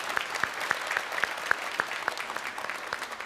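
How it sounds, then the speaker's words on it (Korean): A Sunday worship congregation claps for two visitors seated upstairs, giving continuous applause from many hands with a few louder, evenly spaced claps cutting through the crowd. "우리 위층 두 분께도 박수 한번 부탁드립니다"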